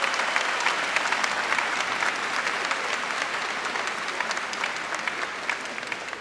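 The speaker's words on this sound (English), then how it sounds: "Let's give them a round of applause." Steady applause from a sizeable university commencement audience, a dense, even patter of many hands clapping that fades slightly over about six seconds, with no voices.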